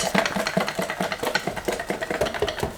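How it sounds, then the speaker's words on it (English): A whisk beats pumpkin muffin mix pancake batter in a bowl, giving quick rhythmic strokes with a steady churning pulse, close and alone. "Whisk these up."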